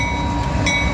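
A freight train hauling loaded double-decker auto rack cars rolls past at close range in Abbeville, South Carolina, a loud, steady rumble of wheels and rail noise lasting about a second.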